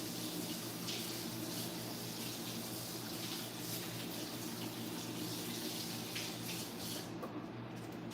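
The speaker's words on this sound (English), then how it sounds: "I'm going to rinse my hands for 1 second." A kitchen tap running steadily while hands are rinsed under it, a constant, fairly faint hiss of flowing water with slight splashing variation throughout.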